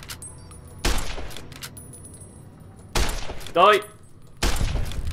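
Gunfire from a ranged weapon in Fallout: New Vegas during a hunt for a deathclaw, with three loud sharp bursts spaced a couple of seconds apart and a spoken exclamation between shots.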